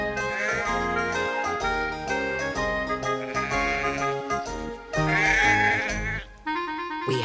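Sheep bleat repeatedly during shearing, wavering calls overlapping one another over a busy, tonal background with faint jingling.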